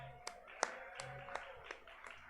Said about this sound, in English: Yeah, do your clapping.